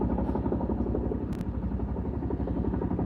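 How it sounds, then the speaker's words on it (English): A helicopter flies close overhead at a wildfire near Jim Thorpe, Pennsylvania, its loud, steady rotor thump pulsing rapidly throughout the clip. "Chopper's coming right over us."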